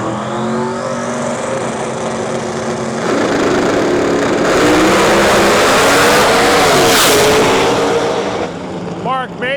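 A Pro Mod drag race car engine runs loud and close while warming up at the US Street Nationals, a sustained rough roar that swells partway through and holds steady before easing near the end.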